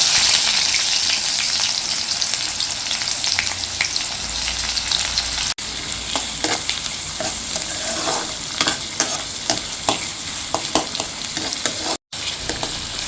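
Onions sizzling steadily in hot oil with mustard seeds and fenugreek for a dry fish (vanjaram karuvaadu) gravy, a loud continuous frying hiss broken by occasional spoon scrapes from stirring, with no talking.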